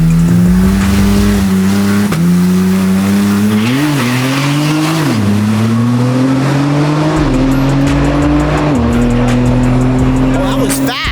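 Toyota Supra accelerating hard past the camera at a car show: a loud, continuous engine roar that climbs in pitch through several gear shifts, with tire noise and a strong, close presence throughout.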